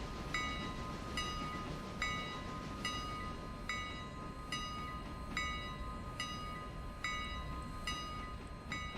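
Freight train rumbling along in Railroader, a steady low rolling roar with evenly spaced metallic clicks from the wheels, fairly faint and with no one talking.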